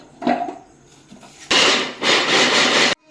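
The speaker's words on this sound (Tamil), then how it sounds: "இப்போ வந்து நம்ம சாப்பரில் போடுவோம்" A hand-pulled vegetable chopper whirs in two quick bursts as it chops tomato, capsicum and onion, loud and close, after a few lighter knocks as the vegetables are loaded in.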